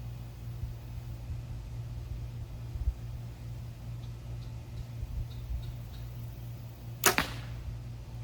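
A single sharp arrow strike on a target, fired from a bow during deer-season practice, comes after a long stretch of faint low hum and a few soft ticks. It lands as one brief, crisp impact near the end.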